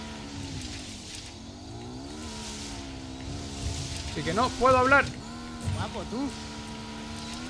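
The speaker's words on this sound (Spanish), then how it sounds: "Qué guapo va la moto, chaval." Motorcycle engine in the video game Ghost Recon Wildlands, a steady droning hum that rises and falls in pitch as it revs, running continuously beneath excited male speech.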